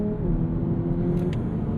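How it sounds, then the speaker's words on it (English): A 2025 Lexus UX 300h hybrid accelerating through simulated gear changes, heard as a steady low engine drone with slight shifts in pitch, close and continuous from inside the cabin, no talking. "You can hear those simulated gear changes."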